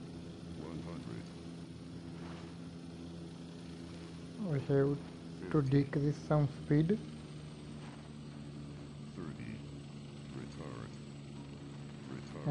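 Steady propeller drone of an ATR72 airliner in flight in the game Airline Commander, a continuous hum throughout with someone talking over the middle section.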